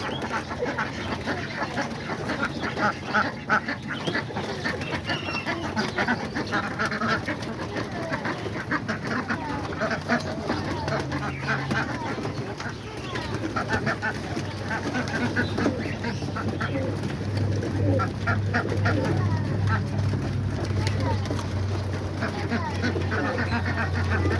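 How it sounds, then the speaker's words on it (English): Ducks quack and pigeons coo in a backyard where chickens roam among homing pigeons, a busy, continuous mix of bird calls near and far while someone talks over them. "the ducks and the chickens are out here just waiting to see what the pigeons drop"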